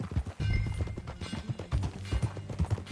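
Horse hooves clip-clopping in the video game Red Dead Redemption II, a steady, close rhythm of hoof strikes continuing throughout at a trotting pace.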